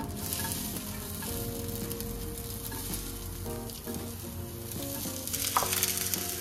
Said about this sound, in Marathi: तर आता कांदाही छान असं आपल्याला भाजून घ्यायचा आहे।